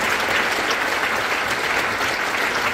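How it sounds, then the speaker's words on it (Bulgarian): A folk concert audience keeps up a full, even round of clapping, many hands close and loud, steady from start to finish with no voices rising above it. "Аплодисменти."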